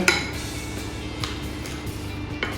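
Curry chicken pieces and onion stirred in a pot, a few light clinks and scrapes of a utensil against the pot at irregular intervals over quiet kitchen background, close and moderate in level.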